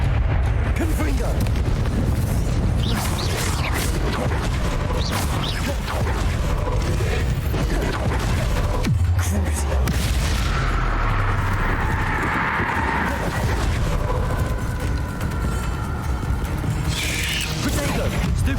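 Repeated Confringo blasting-curse explosions in Hogwarts Legacy combat, booming bursts and crackling blasts over a busy battle soundscape with rumbling impacts, continuous and loud throughout.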